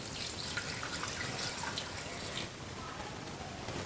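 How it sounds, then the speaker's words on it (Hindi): One litre of water poured into a cooking pot holding cumin and salt while making yakhni mutton pulao, a steady close splashing pour lasting a few seconds. "ये 1 लीटर मैंने पानी डाल दिया है।"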